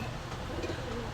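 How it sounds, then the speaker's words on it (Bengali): Tulo pigeons, a flying breed, cooing briefly amid a busy pigeon market din. "তুলো কবুতর"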